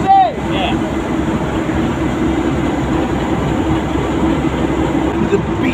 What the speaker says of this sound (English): A big, chunky, monster diesel. And what a noise.